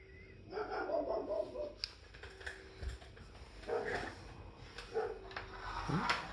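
Dogs bark in several short, irregular bursts at moderate distance over quiet indoor background, with a brief whimper-like yelp near the end.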